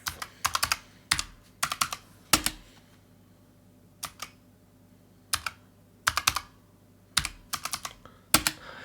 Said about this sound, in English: Now as I start to type in this,